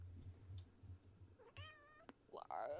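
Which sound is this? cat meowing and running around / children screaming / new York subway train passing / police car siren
cat meowing and running around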